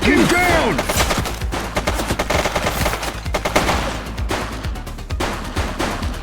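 Rapid automatic gunfire and overlapping shots in the police video game The Precinct, loud and dense throughout with bursts and scattered impacts in a chaotic firefight.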